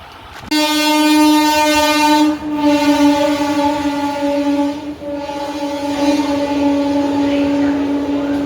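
A train at a railway station sounds a long, loud, sustained horn close by that holds for several seconds with slight wavering, with faint voices in the background.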